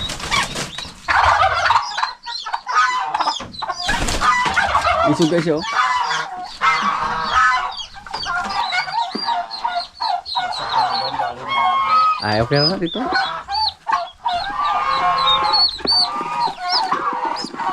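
Poultry on a farm call out in loud honking, clucking cries, several birds overlapping in bursts, with people talking in between.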